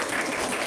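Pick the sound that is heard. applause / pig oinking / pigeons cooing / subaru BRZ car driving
applause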